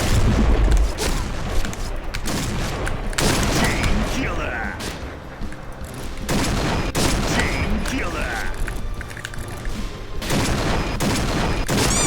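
Rapid bursts of gunfire striking the player in a shooter video game, dense sharp cracks and booms in repeated volleys across the clip, loud and close, with someone talking over parts of it.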